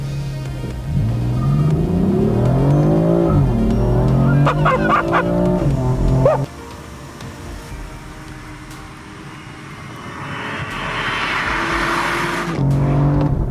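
A BMW M4 launches hard with traction control off, its engine revving loudly and climbing through the gears in a rising, roaring pull for several seconds. Then it drops to a lower rumble and builds again as it speeds away.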